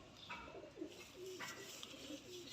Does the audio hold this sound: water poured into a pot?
no